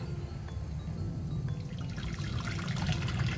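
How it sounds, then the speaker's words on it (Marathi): Hot water pours steadily into a large metal pot, a continuous close splashing rush that keeps going for the whole few seconds with no talking. "त्याच्यासाठी हे असं पातेलं घ्यायचं एक मोठं आणि त्याच्यामध्ये गरम पाणी टाकायचं"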